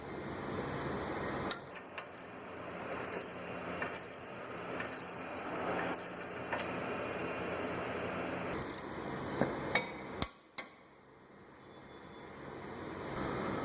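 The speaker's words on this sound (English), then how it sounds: "Got a torque wrench, 180 foot-pounds." A torque wrench ratchets while an axle nut is tightened on a 2011 Jeep Patriot AWD during CV axle replacement, giving repeated close clicking and mechanical whirring, with a few sharp metallic clanks near the end.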